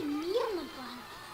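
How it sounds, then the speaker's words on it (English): A pet cat sitting on its owner's lap lets out one drawn-out, complaining meow that rises and then falls, close by and moderately loud. "my cat decided to jump on my lap, and now she's complaining for no reason"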